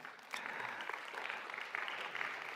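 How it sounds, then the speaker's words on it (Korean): Applause from a church congregation during a Korean service, a steady broadband patter of many hands, fairly faint and distant, swelling slightly partway through with no voices on top. "이럴 때 박수 한번 나와야 되지 않을까요?"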